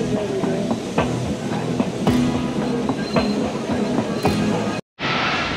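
A steam-hauled Ooty toy train climbs a rack-and-pinion mountain railway, rattling along with a rhythmic clickety-clack and metallic clanks close by. It runs continuously before a brief sudden dropout near the end.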